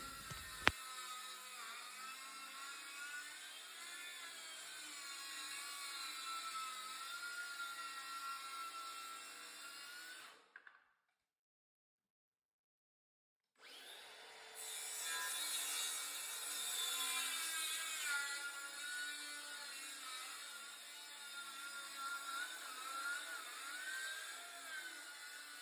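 Steady rasping of a saw cutting wood along a glue line, continuous and close, broken by a few seconds of silence before the cutting resumes.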